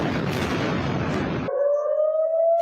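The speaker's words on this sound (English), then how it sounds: "Air raid sirens sounding across Israel," Air raid siren wailing across Israel during a Hamas rocket barrage, heard as a steady rising tone that cuts in after a burst of loud broadband noise, carried in a news broadcast.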